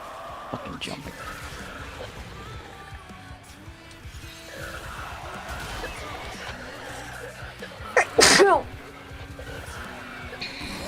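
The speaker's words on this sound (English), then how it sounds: "that was me. Sneezing." A single loud, sharp sneeze bursts out near the end, standing clear above a steady background of voices and room noise at a variety night.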